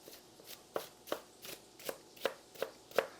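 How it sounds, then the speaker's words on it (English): An onion being rough chopped with a knife on a cutting board, about nine evenly spaced, fairly crisp chops at a steady moderate pace, with no talk. "I'm just going to rough chop the onion"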